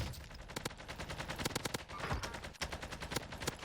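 Rapid automatic gunfire in Warzone, bursts of sharp, close shots in quick succession over a busy battle background with no pauses, loud and steady throughout.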